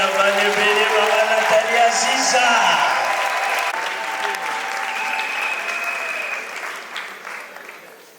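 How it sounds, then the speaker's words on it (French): Audience applause at a ceremony presenting diploma-receiving policewomen on International African Women's Day, a dense steady clapping that holds strong before gradually thinning and fading toward the end, with a few voices audible underneath. "Sous vos applaudissements, s'il vous plaît."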